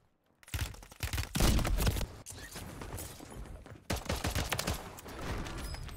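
Sniper rifle and other gunfire in the Rebirth Island video game, loud sharp shots and bursts over a couple of seconds, then further scattered reports and clattering movement sounds at a lower level.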